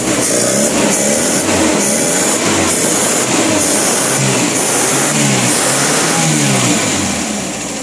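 A cold Nissan C22 Vanette engine, suffering hard starting, heavy fuel use and low power, revs loudly and close up in repeated rising and falling surges over a steady rough idle, with no talking.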